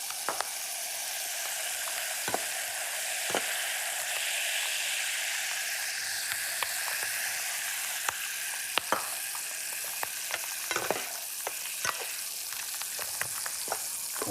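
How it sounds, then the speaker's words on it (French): A hot pan of veal sweetbreads cooked meunière in butter sizzles steadily after a small splash of water deglazes it, with sharp crackles and pops scattered across a continuous frying hiss, alone without talk. "Là, on va déglacer avec une pichenette d'eau."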